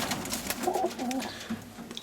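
Young roller pigeons in a loft give soft, low cooing calls in short bursts, close by, with light rustling and background noise.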